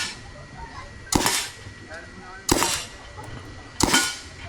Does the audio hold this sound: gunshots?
yes